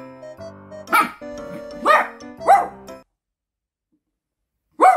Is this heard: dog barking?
yes